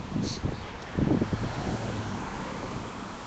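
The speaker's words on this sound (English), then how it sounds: "It's too windy." Outdoor wind buffets a microphone at a street protest near a fundraiser, a steady low rumble with gusty swells, close and fairly loud, with traffic and faint voices blended underneath.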